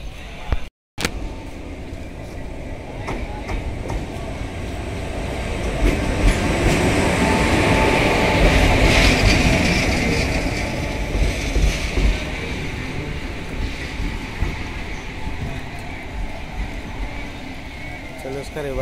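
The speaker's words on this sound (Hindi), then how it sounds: "तो लोकोमोटिव रिवर्सल ही होगा। तो लोकोमोटिव को निकाल लिया गया," A locomotive being reversed on a special train at Kanpur Anwarganj sends a loud, steady rail rumble that swells in the middle and fades, with someone talking over it throughout.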